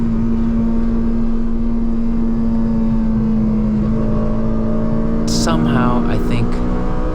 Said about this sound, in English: down to third and the engine will sing for you. Just listen to that.